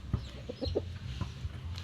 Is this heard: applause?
no